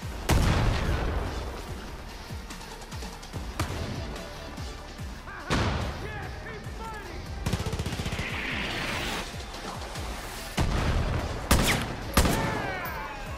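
Mortar and gunfire boom repeatedly in the shooter game Far Cry New Dawn, loud blasts and bursts arriving irregularly and close, with echoing impacts between them.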